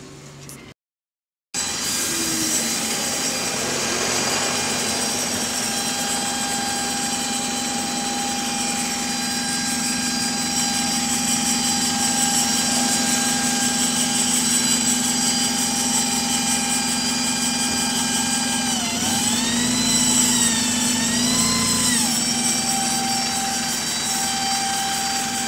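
An AL DW310 bus on route 466 gives off a loud gear whine: steady high tonal whines layered over engine drone, with a pitch dip and wobble near the end as the vehicle changes speed, continuous and close without speech.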